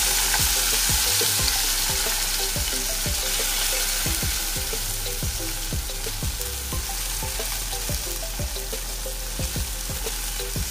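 Ground spice paste fries in hot oil for beef kurma, a loud, steady sizzle with regular stirring scrapes repeating throughout, close up and without speech.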